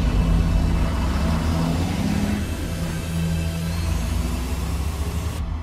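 A car engine roars steadily under hard acceleration, a dense low rumble with a rising mid-range whine, loud and close throughout, ending abruptly.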